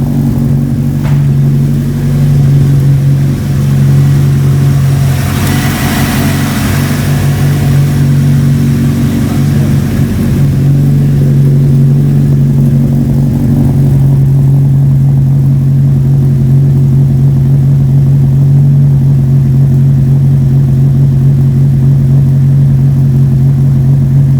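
A Nissan 180SX with a tuned SR engine and upgraded cams runs loud and close, idling with a deep steady drone and swelling in a brief rev before settling back.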